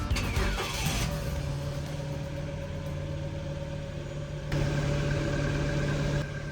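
Ford Focus with a misfire and judder, its engine starting with a brief crank, then idling at a steady, fairly loud mid-pitched hum with a slight surge partway through.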